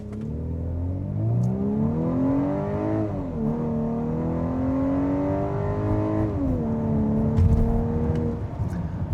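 A 2025 Volkswagen Atlas Cross Sport SEL R-Line SUV with a 2-liter turbo engine launches hard from a brake-torqued start toward 60 mph, its engine droning steadily upward in pitch, dipping briefly at two gear shifts, then climbing again, heard close inside the cabin.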